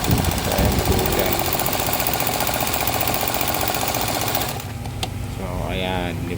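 A heavy duty zigzag sewing machine driven by a foot pedal runs fast and steadily for about four seconds, a dense mechanical whir, then stops. A voice speaks afterward.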